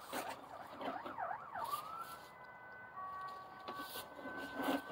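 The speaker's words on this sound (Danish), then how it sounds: "Undskyld, hvis I kan høre den der ambulance, eller hvad det er." A siren wails far off, rising and falling in quick cycles before settling into a steady held tone, faint beneath a quiet indoor room.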